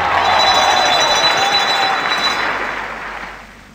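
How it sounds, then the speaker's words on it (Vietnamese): A studio audience on the Vietnamese TV game show Chuyện nhỏ's Christmas special applauds contestant Ngọc Diệp with dense, steady clapping that gradually fades out. "Thưa quý vị, hãy dành một tràng pháo tay để chúc cho bạn Ngọc Diệp thật tự tin bước vào vòng thi đặc biệt."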